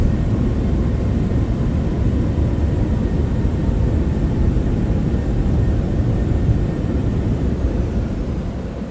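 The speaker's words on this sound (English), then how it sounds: "Reversers. You're braking." Steady, loud roar from the thrust reversers and braking of a Citation X just after touchdown in a flight simulator. The broad rushing noise holds for several seconds and eases slightly at the end.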